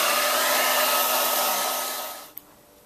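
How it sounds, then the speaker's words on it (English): A handheld hair dryer blows over a watercolor stencil painting to dry it, a loud, steady close-up whoosh that winds down near the end and stops with a small click, followed by quiet. "So, I've got my hair dryer here."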